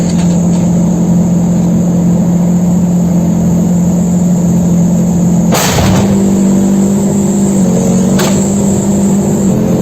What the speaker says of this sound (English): We now see the tank beginning to reverse down the street at a little bit of a higher speed